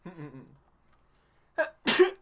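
A voice speaks briefly, then after a short pause a close, loud sneeze bursts out with a sharp intake and explosive release.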